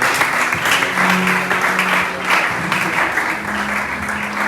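A church congregation applauds in steady, dense clapping that continues throughout, loud and close, with faint voices mixed into it.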